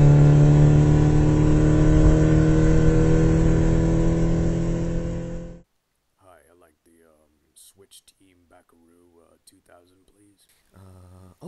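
A car engine revs steadily and loudly in a video game for about five seconds, then cuts out abruptly. Quiet, fragmented voices follow afterward.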